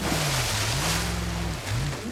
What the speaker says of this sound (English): Deep water.